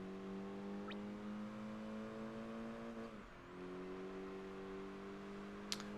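A racing car engine from the Project Gotham Racing 4 video game drones steadily at high revs, dipping briefly in pitch around the midpoint before climbing again, with a short sharp click near the end.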